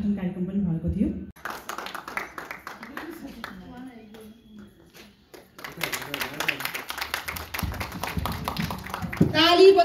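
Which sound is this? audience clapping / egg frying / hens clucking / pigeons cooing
audience clapping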